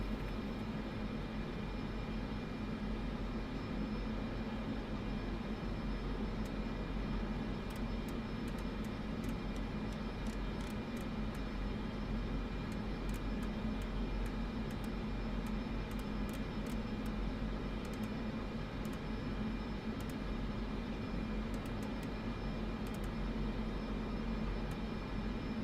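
A Cessna Grand Caravan turboprop drones steadily in Microsoft Flight Simulator 2024 on a flight from Provo, Utah toward Telluride, Colorado, a constant, fairly quiet cabin hum with no talk and faint intermittent clicking.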